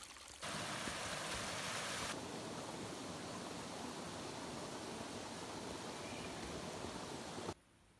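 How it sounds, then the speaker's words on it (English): A small mountain stream at a water source along the Appalachian Trail in New Hampshire trickles and rushes steadily, a dense close water hiss that holds evenly throughout with no voices. "Filling up at this little water source before our camp spot."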